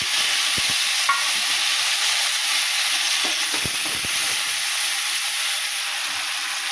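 Green chilli paste and tomato stirred in a frying pan, a steady bright sizzle with a few soft scrapes and clicks of the spoon, fairly close and without talk.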